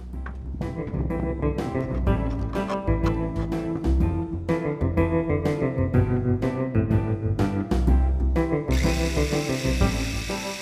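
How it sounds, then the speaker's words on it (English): A reciprocating saw fitted with a long Sawzall blade chatters steadily as it cuts through wall insulation near a pellet stove vent opening, loud and close, with a rapid rhythmic stroke and a brief hissy change near the end. "I'm using a long Sawzall blade."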